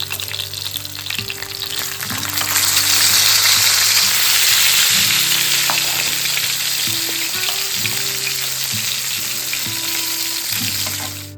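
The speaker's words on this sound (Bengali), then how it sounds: "এই যে ইলিশ মাছ ভাজা হচ্ছে" Hilsa fish fries in a pan with a loud, continuous close sizzle and crackle, with occasional stirring and a low steady hum underneath.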